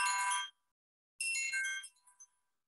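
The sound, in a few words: phone ringing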